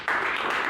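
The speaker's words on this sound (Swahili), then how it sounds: "Tumpigie makofi." Applause and clapping in a church service for Baba Stella: a short burst of dense, hissy handclaps starting abruptly and holding steady, fairly loud and close.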